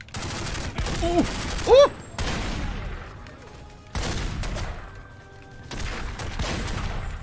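Bursts of Tommy gun fire in The Godfather video game, loud rattling volleys in several stretches with gaps between, a man's exclamations breaking in partway through.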